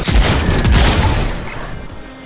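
Loud bursts of gunfire and a booming explosion in a robot shooter video game, a dense crashing blast up front that rumbles and decays into a fading tail.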